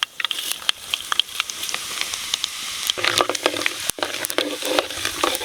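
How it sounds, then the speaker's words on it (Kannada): Mustard seeds and cumin sizzle and crackle in hot cooking oil, a steady close frying hiss dotted with rapid popping bursts, growing busier partway through. "ಅಡುಗೆ ಎಣ್ಣೆ ಸಾಸಿವೆ ಜೀರಿಗೆ"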